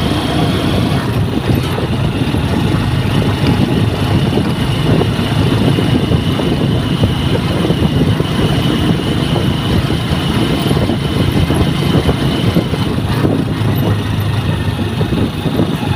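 Motorcycle engine running steadily at close range, a continuous low rumbling drone that holds the same level throughout with no speech over it.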